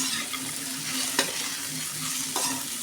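Fried okra is tossed with other ingredients in a pan, heard as a steady frying sizzle with a couple of sharp scraping stirs, close and without talk.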